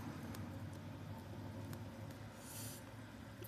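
A small red car passes along a morning street where many people ride bikes, a faint low engine rumble with a brief brighter hiss of tyres near the end.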